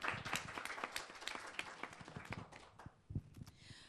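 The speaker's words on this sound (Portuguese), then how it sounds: "é a Manuela Neves, para quem eu peço um aplauso" An audience applauding at a multiple sclerosis patient summit, a fairly faint burst of scattered hand claps that thins out toward the end.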